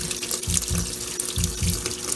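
Water rushes steadily into a Kenmore laundry center washing machine tub as it fills, with a low rhythmic thumping underneath, continuous and close.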